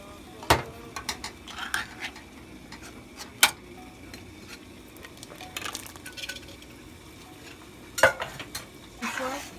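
A spoon mixing coconut milk into a taro dish in a pot, soft swishing with a few sharp clinks of metal against the pot, fairly quiet and intermittent.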